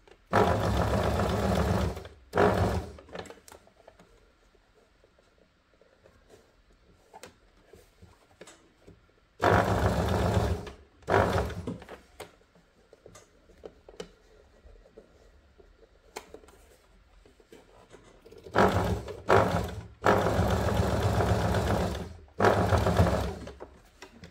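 A sewing machine stitches bias binding onto a blouse, running in several loud, close bursts of a few seconds each, separated by longer quiet stretches with light fabric handling and clicks.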